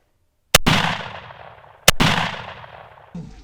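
Gun fired at a homemade shield built from garbage: two loud, sharp shots about a second apart, each followed by a long decaying ring, then a softer clunk at the end.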